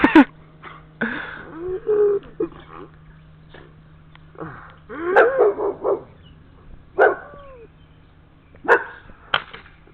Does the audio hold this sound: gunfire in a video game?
no